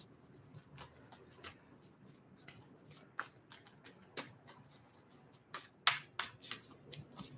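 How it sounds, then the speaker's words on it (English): Tarot cards being shuffled by hand: quiet, irregular riffles and slaps of the deck, a dozen or so soft bursts growing a little louder toward the end, close and alone. "I'm trying to shuffle."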